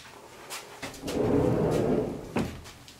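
Small sliding barn doors on a storage cabinet in a Dayton, Ohio family room rolled open, giving a soft rumbling slide of about a second with light knocks before and after, close and moderately quiet.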